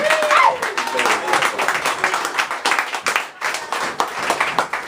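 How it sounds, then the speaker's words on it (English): Audience clapping at a poetry event, steady crowd applause throughout with a voice briefly calling out over it near the start. "And keep clapping till he gets up here, Richard Garland."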